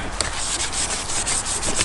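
Rapid back-and-forth scuffing of car paint on a stanced MR2 with 800 grit sandpaper, close and steady rhythmic rasping strokes with no talking.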